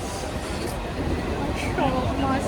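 A crowded commuter train ride toward Bidhannagar, with a steady rumbling carriage roar and faint squeals from the wheels; indistinct voices are mixed into the background noise.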